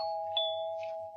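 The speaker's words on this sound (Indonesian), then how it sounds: "Tak lama kemudian bel pun berbunyi." A doorbell ringing at a house, a soft electronic ding-dong chime with a brief sustained tone, faint and alone.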